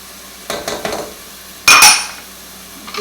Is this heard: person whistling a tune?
no